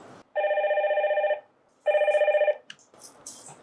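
A telephone rings for a call-in, giving two loud electronic trilling bursts separated by a short pause, followed by faint clicks and handling noise.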